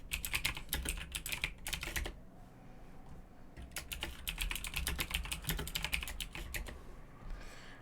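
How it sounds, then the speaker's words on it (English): Quick bursts of clicks come from a computer keyboard, close and fairly quiet, with a short pause midway before the clicking resumes in uneven runs. "Let me just type that I'm live."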